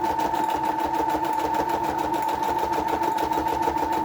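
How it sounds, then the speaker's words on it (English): A sewing machine runs steadily through a modified zigzag stitch on fabric for a tab index card, with a loud, even motor hum and a rapid, regular needle clatter throughout. "It's a modified zigzag stitch."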